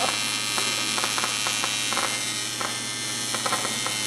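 A TIG welding arc hums and buzzes steadily in a garage during work on a C5 Corvette, a constant close electrical drone with faint crackles pulsing through it.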